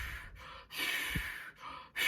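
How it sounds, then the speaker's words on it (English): Purging breath-up before a spearfishing dive in Hawaii: three breathy exhales alternating with inhales, the breaths out running longer than the breaths in, close and fairly loud with no talking. "I'm breathing in and then breathing out more than I breathed in"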